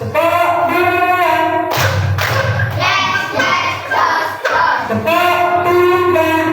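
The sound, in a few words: children clapping hands in class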